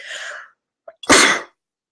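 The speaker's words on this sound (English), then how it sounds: "Excuse me, I'm going to sneeze." A breathy intake, a brief pause, then one loud, sharp sneeze close by.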